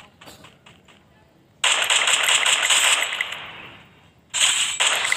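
Automatic gunfire in the Free Fire mobile game comes in two dense bursts of rapid, crackling shots, the first long and fading, the second starting abruptly near the end, with faint clicks between them.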